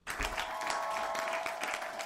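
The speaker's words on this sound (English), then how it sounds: "Give a round of applause for this lady." Convention crowd at Galaxycon in Minneapolis applauding a guest at a fan event, a dense, steady wash of clapping that starts abruptly and holds for about two seconds, moderately loud and fairly close.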